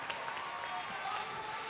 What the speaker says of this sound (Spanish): Fuerte el aplauso para ambos antes de empezar